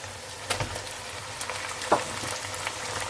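Baby lamb mutton sizzles in a pan with ginger garlic paste, a soft steady frying hiss with occasional stirring clicks and scrapes, close and fairly quiet.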